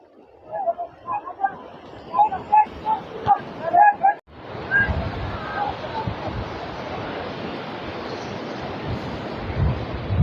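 Sea waves roll in at a Goa beach as a broad, continuous roar mixed with wind buffeting, becoming loud and steady after a voice speaks over the first few seconds.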